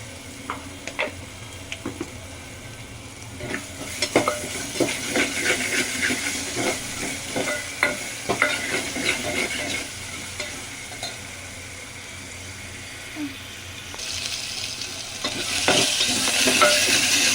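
Ginger garlic paste frying in a pan while paya curry is being made, a steady close sizzle broken by scraping stirs and utensil knocks, with a brighter hiss swelling near the end.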